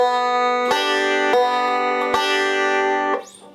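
Bright plucked open banjo strings ring out in a short repeating picked pattern, the 2nd string picked and the 1st and 5th pinched together, notes sustaining cleanly before fading at the end.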